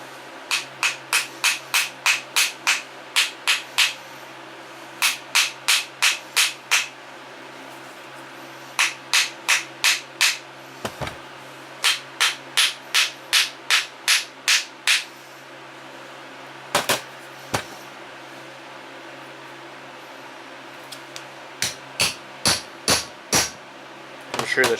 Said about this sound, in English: Gonna have to tap it open with a hammer.